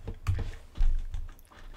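Keystrokes on a computer keyboard while entering an Excel function, a few quick close taps with short pauses between clusters, no voices.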